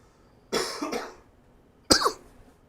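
Two separate coughs, the first a longer rough burst and the second short and sharp, close by with quiet between them.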